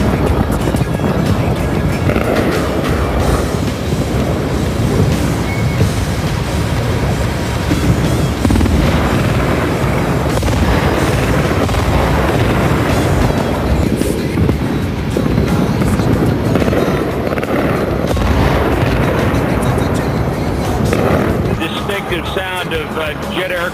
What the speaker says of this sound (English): you can hear the anti-aircraft fire and what appears at least to be more strikes by cruise missiles